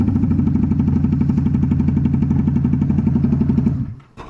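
A motorcycle engine idles close by with a fast, even putter, then cuts off abruptly near the end.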